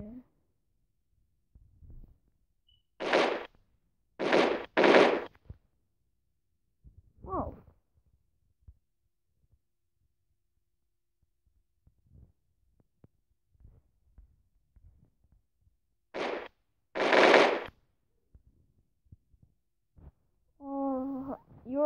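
Gunfire from the video game Mask Gun: a few sharp bursts in a quick cluster, then a quiet stretch and another pair of shots, moderately loud and mostly alone.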